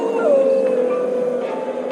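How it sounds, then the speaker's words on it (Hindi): Dogs howling as an audio drama sound effect, a long wavering mournful howl that slides down in pitch, loud and close over a steady eerie background. "कुत्ते रोने लगे।"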